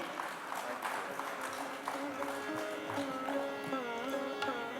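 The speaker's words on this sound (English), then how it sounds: "Ladies and gentlemen, a big round of applause, please" A round of applause at a trade summit's inaugural session, steady and fairly soft clapping across the whole stretch, with background voices and a tonal hum underneath.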